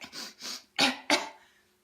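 Four short coughs in quick succession, the first two softer and breathy, the last two sharper and louder, close to the listener.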